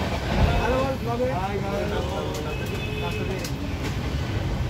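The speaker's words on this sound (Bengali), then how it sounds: "ট্রেনের এই আওয়াজ, ট্রেনের এই চলতে চলতে ট্রেনের এই দোলন" Padatik Express train running between Sealdah and NJP, heard from on board as a steady, loud rumble of the carriage in motion, with talk faintly over it throughout.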